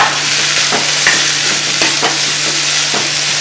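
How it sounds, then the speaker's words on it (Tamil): Radish sautéing in a pan with steady sizzling under a constant hum, broken by a few soft stirring scrapes. "முள்ளங்கி வந்து ஒரு பாதி வதங்கிருச்சு"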